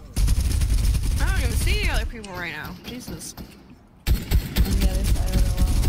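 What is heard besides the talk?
gunshots in a video game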